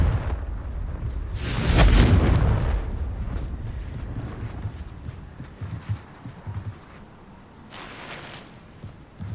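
A Confringo blasting spell fires in the Hogwarts Legacy video game, a loud booming burst that swells and rumbles for about two seconds, followed by scattered thuds and a second sharp blast near the end.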